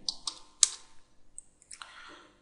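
Typing on a computer keyboard: a handful of irregular, crisp key presses, close and fairly loud, with a brief clustered burst toward the end, no voices.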